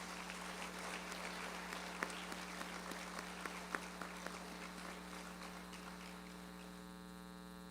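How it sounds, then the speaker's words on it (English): Audience applause after a dance performance at an arangetram, a steady wash of clapping over a constant mains hum, fading toward the end. "Let's give them just one more round of applause for that."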